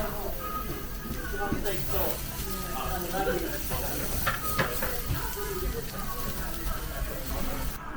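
Meat sizzles on a tabletop yakiniku grill with an overhead smoke extractor at a Tokyo grill buffet, a continuous crackling hiss with small pops, heard under restaurant chatter and nearby talking.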